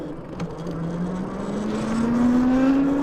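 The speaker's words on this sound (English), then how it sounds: "Car behind, we gotta be careful." A car drives up behind an e-bike on a trail, its steady engine drone slowly rising in pitch as it draws nearer over constant road and wind noise.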